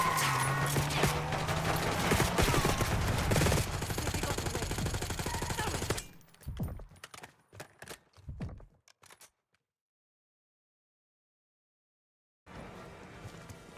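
Video game gunfire from Black Ops 6 comes as dense, sustained automatic bursts, then scattered single shots. After several seconds of silence, a noisy game ambience returns.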